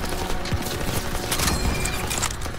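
Dense battle gunfire in Call of Duty WWII, a fusillade of rapid overlapping shots and clattering bursts at close range, steady and loud throughout with no voices.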